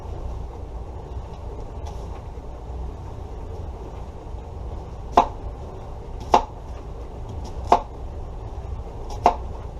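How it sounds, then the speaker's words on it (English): Four crisp knife strikes on a cutting board, spaced a second or so apart, as slits are cut into an onion for pressure-cooker red beans, heard close over a low steady room hum. "And then I just take and cut 2 slits in them like this."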